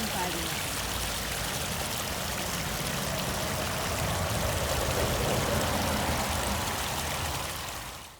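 Water runs steadily along a flooded stretch of the Appalachian Trail, a broad continuous rushing close by with no pauses, lasting about eight seconds before fading at the end.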